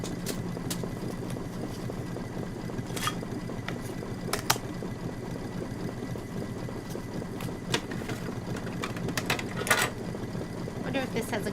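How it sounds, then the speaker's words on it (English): An embroidery machine doing applique stitching on a quilt block, a steady mechanical hum with a fine rapid needle rhythm, punctuated by occasional sharp clicks, and a person speaking now and then. "It's going to be 6 minutes of applique stitching for that right now."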